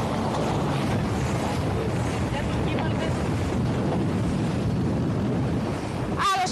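Strong wind roars over the microphone during a yacht race off Andros in heavy wind and waves, a steady loud wash of gusts and surf with a brief sharp whistling burst near the end.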